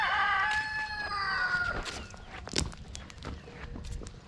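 Cornish Cross meat chickens and a rooster on a farm, with a rooster crowing loudly and close in the first two seconds over scattered clucking and farmyard movement.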